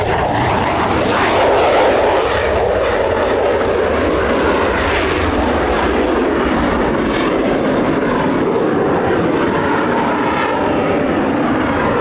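Eurofighter Typhoon FGR4 fighter jet roaring loudly and continuously at RAF Coningsby, a broad, sustained engine thunder with a swelling rush as it passes overhead, no talk.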